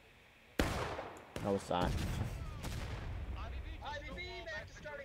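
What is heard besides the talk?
artillery fire in a Civil War video game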